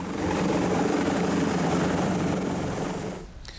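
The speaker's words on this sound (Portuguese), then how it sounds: "Depois partiu de helicóptero para São Paulo, onde embarcou para Brasília." A helicopter's rotor and engine roar loud and steady throughout, a dense broadband whir that drops away abruptly near the end.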